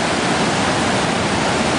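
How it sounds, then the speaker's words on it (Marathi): Snowmelt stream rushing down on the trail toward Mirror Lake, a loud, steady roar of water with no breaks, heard up close and alone. "हे बर्फाचं वितळलेलं पाणी असं जोरात येत आहे वरून वाहत"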